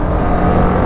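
A BMW G310 GS motorcycle engine revs hard and close, a loud continuous roar that holds steady throughout with no voices.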